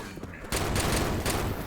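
Rapid gunfire from Left 4 Dead 2 with the Left 4 Flood mod, a dense burst of loud shots that cuts in suddenly after a quieter moment and continues steadily.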